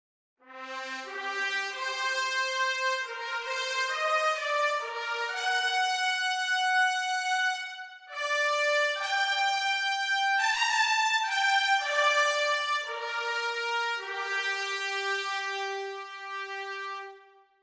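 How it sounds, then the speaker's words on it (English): Six trumpets play together in an orchestral voicing, sustained harmonized chords moving through a phrase, bright and brassy, loud and continuous for the whole stretch with no talking. "what does 6 trumpets sound like?"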